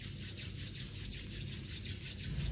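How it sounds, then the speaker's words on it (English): Palms rub briskly against each other during a guided yoga session, a close, steady swishing friction with a rhythmic back-and-forth pulse throughout. "Rub your palms to each other."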